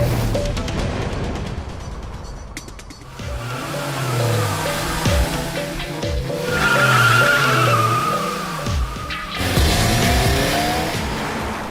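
Drifting race cars on a lakeside circuit scream through slides, tyres screeching over revving, shifting engine notes that rise and fall, loud and close, with a brief lull before another car roars in.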